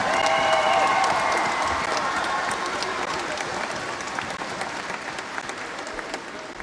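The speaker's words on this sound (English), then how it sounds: "So I want to have a round of applause, please, for the tutors of this orchestra." A concert audience at the Peace Proms in Limerick applauds the orchestra tutors with sustained, dense clapping, and a few cheers fade gradually toward the end.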